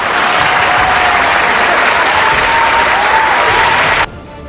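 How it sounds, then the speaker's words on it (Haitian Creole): A large audience claps loudly and steadily at a Haitian church gathering honoring pastor Sadraque Cius, a dense sustained roar of applause that cuts off abruptly near the end, leaving a quiet room. "Mes amis, li mérite yon applaudissement encore"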